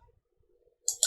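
A quick pair of computer mouse clicks made while drawing in CAD software, close and crisp, coming after a near-silent pause.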